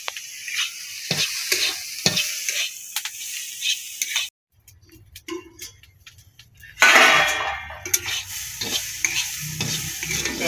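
Papaya pieces fry in plenty of oil with turmeric, a steady close sizzle broken by repeated scraping and stirring of a spatula against the pan, with a brief quiet gap before the frying noise returns loudly.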